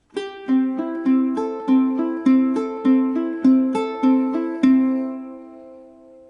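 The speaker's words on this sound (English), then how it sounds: "if you don't touch anything at the top end of the ukulele, just use your one hand, it sounds like this" A ukulele picked on open strings, about ten evenly spaced plucked notes cycling through a repeating pattern, close and clear, with the last note ringing out.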